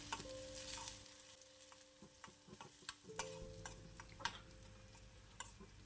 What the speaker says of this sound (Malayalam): കുറച്ച് കടുക് ഇട്ടൊന്ന് പൊട്ടി വരട്ടെ